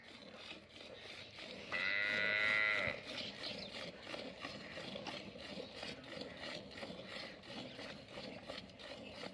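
A Nili-Ravi buffalo gives a single loud, drawn-out moo of about a second, close by, amid quiet farmyard rustling.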